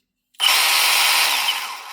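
A previously dead Milwaukee M18 CHX cordless rotary hammer drill, under repair, starts abruptly and runs at a steady, loud, close whine with no talk.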